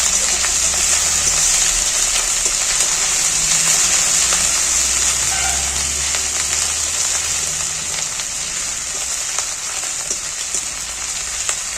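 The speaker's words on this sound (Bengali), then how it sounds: "এবার আমি জল দিয়ে দিচ্ছি এই আদা রসুন বাটার জল" Water poured into ginger-garlic paste in a hot pan gives a loud, steady broadband hiss and bubbling sizzle that holds throughout and fades slightly near the end, with no voices.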